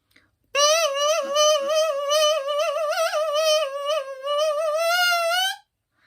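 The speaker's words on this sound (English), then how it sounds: "this thing here, which is a double reed, sounds like this." A lone bassoon double reed squawks a high, buzzy, reedy tone that wavers and bends in pitch for about five seconds, with no talking.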